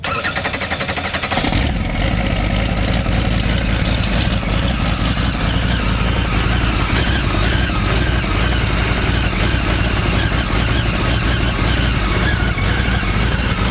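An airplane engine mounted on a motorcycle turns a propeller after a brief start-up, then holds a loud, steady, close-up drone and buzz with a whooshing roar throughout.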